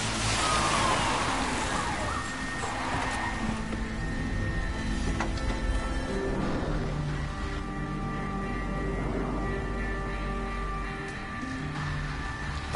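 Several police car sirens wail continuously in the horror video game The Evil Within, layered and steady over a low rumbling background for the whole stretch, with no one talking.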